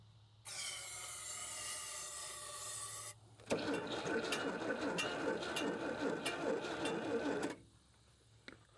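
An old Tri-Five Chevy engine, not run for 36 years, cranks over in two long bursts with a stuck throttle, a rapid rhythmic whirring starter chug that labours without catching, separated by a short pause.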